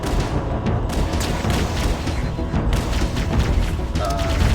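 Grenades going off in Halo: Combat Evolved, dense loud booming blasts running through the whole stretch, rumbling and overlapping with crackling debris and game noise.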